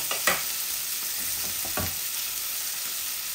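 Onions fry in a hot pan with a steady sizzle, and two short stirring scrapes stand out against the continuous hiss.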